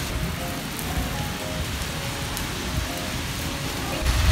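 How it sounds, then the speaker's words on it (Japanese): Heavy rain pours outside an Aeon Mall shopping center at night, a dense, steady close-up hiss of drops striking the ground with no pauses, swelling slightly louder in the final moments, with no one talking. "イオンモールから出てきたらすごい雨が降ってました。"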